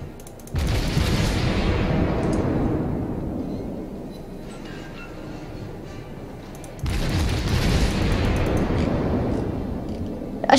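Naval guns fire in the World of Warships game: two heavy, booming salvos about six seconds apart, each a loud blast with a long rumbling decay of shell impacts and no speech.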